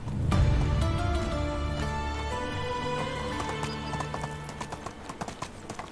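Hooves of a donkey walking in the medieval survival game Medieval Dynasty, a clear clip-clop of repeated steps, loud and close at first and then settling into a lighter, quicker rhythm, with no talking over it.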